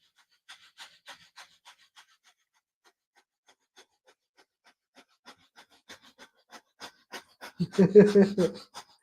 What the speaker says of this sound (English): Abdominal breathing, not the chest breathing.